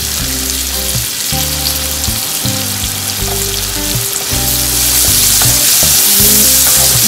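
Two small chopped onions sauté in a pan for a Konkan-style drumstick-leaf stir-fry, giving a loud, steady sizzle with scraping stir strokes throughout.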